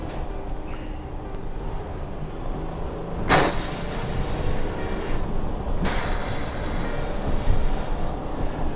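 A rear-wheel-drive camper van accelerates slowly from 20 to 40 mph, a steady low cabin drone of engine and road noise with a couple of sharp rattling clacks along the way.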